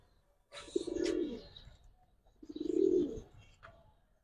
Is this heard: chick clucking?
no